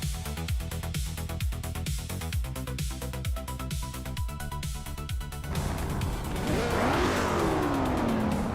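Race cars, including a classic 1968 car on pole, launch at the start at Long Beach: loud engines rev in rapid repeated gear pulls, then a dense roaring pack sweeps past with rising and falling pitch.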